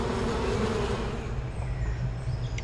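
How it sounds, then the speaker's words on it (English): Cartoonish bees buzz steadily in the Wii U video game Mario Party 10, a dense, continuous drone that stays loud throughout. "Okay, we better gotta be careful with these bees here."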